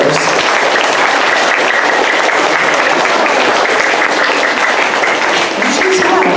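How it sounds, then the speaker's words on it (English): Applause from a school audience for honor roll students, a busy, close crowd of clapping hands with voices mixed in and a brief call rising over the steady clatter. "a round of applause for these three scholars"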